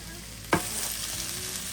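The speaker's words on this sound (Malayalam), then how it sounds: "ഇനി നമുക്ക് ഇതിനകത്തോട്ട് തക്കാളി ഇട്ട് കൊടുക്കാം കേട്ടോ" Tomatoes drop into hot frying masala for chicken biriyani with a sharp splat, followed by a loud, steady sizzle and crackle close up, with no talking.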